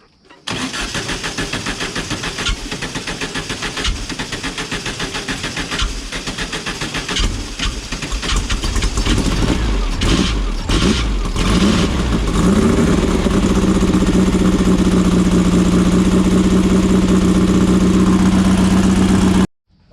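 A small engine sputters to life after carburetor work and settles into a loud, close, continuous running drone that holds steady until it cuts off at the end; voices are faintly audible early on.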